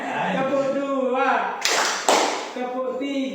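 At a teachers' training session, an audience claps in a counting game, giving two sharp bursts of group claps, first short and then longer, between stretches of someone talking.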